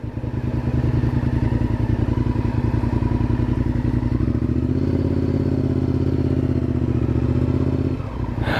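A Honda CBR 954RR sport motorcycle idles near and loud with a throbbing, lumpy engine beat, then a blip of throttle raises the pitch before it cuts down at the end.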